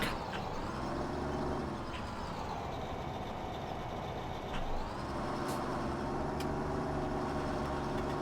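A tractor engine in Farming Simulator 17 drones steadily at low pitch while stuck, a constant mechanical hum with slight shifts in tone and no talking.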